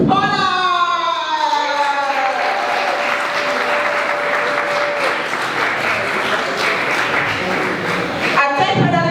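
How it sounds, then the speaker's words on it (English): Applause from a conference audience at a summit finals event, steady and dense clapping filling the room for several seconds with a brief dip near the end. "Ladies and gentlemen, a round of applause for Moses Honor."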